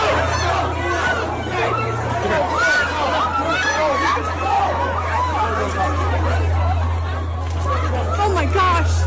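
Shortly after a shooting, a crowd moves and shouts outdoors, a steady babble of many agitated voices with scattered cries, carried over a low constant hum in the background.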